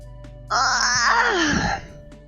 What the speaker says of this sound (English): Have you never heard anyone yawn before?